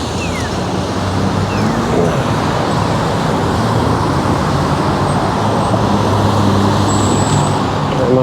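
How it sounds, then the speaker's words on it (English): Steady roar of traffic on 128th Street in Surrey, cars rushing past close by in a continuous loud wash of tire and engine noise with no pause, heard while waiting at the roadside. "Of course, there's still cars coming for some reason."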